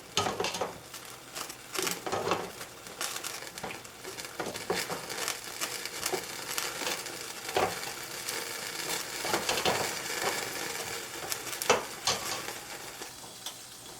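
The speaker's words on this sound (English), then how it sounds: "the hot ingredients we're going to spoon into here to the blender" Hot squash soup ingredients are spooned into a blender, giving a series of faint scraping, clinking and wet plopping sounds at an irregular pace, with no talking.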